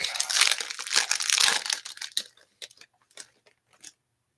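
Silver pattern foil trading card pack being torn open, a dense run of loud crinkling and crackling foil that thins into a few scattered soft rustles near the end.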